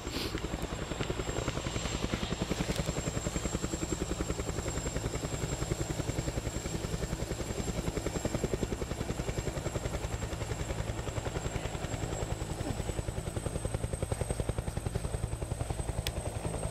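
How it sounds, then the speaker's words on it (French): An Air Greenland helicopter at Ikerasak village, Greenland, its rotor beating in a fast, steady rhythmic chop, close and continuous, with a high whine running through it. "c'est l'hélicoptère. Donc on va en voir un là"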